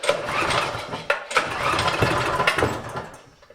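A Predator 6.5hp 212cc engine on a Wards snowblower cold-starts, sputtering and catching in rough bursts before running unevenly close by and then fading away.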